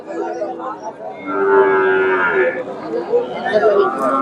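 A Friesian bull lets out a long, loud moo close by at a cattle market, amid a murmur of other animals and distant chatter.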